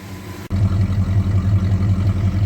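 A 1968 Ford XL with a stock 2-barrel 390 V8 and a mild camshaft starts up and settles into a steady, close, throbbing low-pitched idle with an even lumpy pulse.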